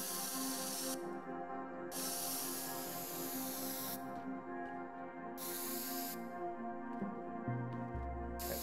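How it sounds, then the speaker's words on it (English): Long hissing bursts of spray paint from a can in the Teardown video game come in three or four steady blasts separated by brief pauses, loud and alone, with a low thud near the end. "that is already spray painted"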